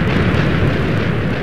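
A giant TNT explosion in the video game Minecraft gives a loud, continuous, dense rumbling roar that holds steady without a break.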